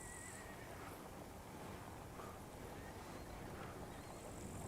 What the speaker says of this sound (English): Oh, now I hear the horse.